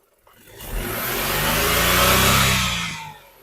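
Petrol engine of a 2021 Nissan Magnite XE revving up close, a smooth rising and falling drone lasting a few seconds with a steady hum, no voices.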